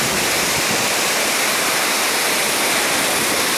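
Tad Gneuang Waterfall roars steadily up close, a dense, unbroken rush of falling water filling the whole moment without a pause.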